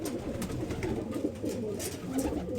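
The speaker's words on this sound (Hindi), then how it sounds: "ये कबूतर है" A male pigeon held in a cage coos in low, repeated, throaty pulses, close and steady throughout, with no talking.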